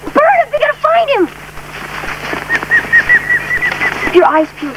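A pigeon flaps its wings in a quick fluttering burst amid outdoor noise, with people talking loudly before and after.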